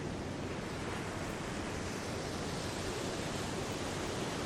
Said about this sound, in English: Allow the sound of the ocean waves crashing upon your awareness to infiltrate your entire being.